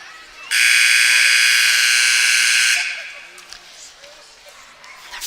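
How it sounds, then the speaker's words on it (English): A basketball timeout buzzer at a 7th grade girls' game blares loud and steady for about two seconds, then cuts off, leaving faint gym ambience and distant voices. "First timeout buzzer, very long one."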